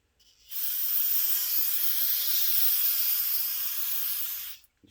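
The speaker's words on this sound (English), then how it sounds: "just use a little brake parts cleaner" Brake parts cleaner sprayed onto a distributor for a 239 V6, a single continuous aerosol hiss lasting about four seconds, close and loud, starting and stopping cleanly with no talking.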